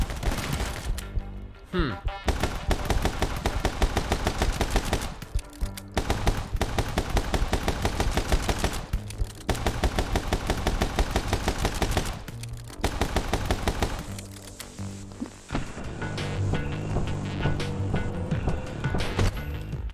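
Shotgun blasts in the video game My Friend Pedro, repeated loud bursts mixed into busy game music and effects, with a brief spoken murmur.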